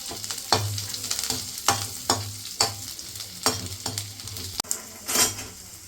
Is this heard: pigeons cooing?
no